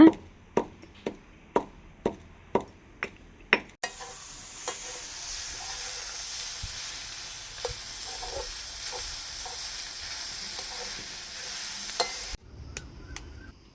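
Several sharp knocks or taps sound first, then a continuous close sizzle of cabbage and five or six garlic cloves frying in a pan, with some faint scraping. A few more taps come at the end.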